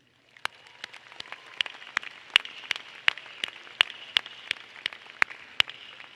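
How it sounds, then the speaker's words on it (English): Graduation audience applauding teachers, heard as scattered, crisp individual claps at irregular intervals over a quiet hall hush, sparse rather than a dense roar. "Seniors, will you please join me in a round of appreciation, applause for your teachers."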